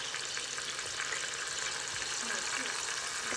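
Pork searing in hot extra virgin olive oil, a steady bright hiss and crackle that continues evenly from start to finish, with a voice faintly present underneath.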